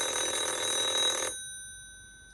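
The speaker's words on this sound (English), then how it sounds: "We don't pick up this phone too often, but it has such a charming ring, doesn't it?" A landline telephone rings with a bright, continuous electric bell tone that cuts off abruptly partway through, leaving a faint fading ring in a quiet room.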